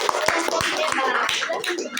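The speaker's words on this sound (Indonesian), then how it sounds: "Berikan tepuk tangan untuk" A classroom group claps in brisk, uneven applause, hands striking close by, with voices chattering underneath.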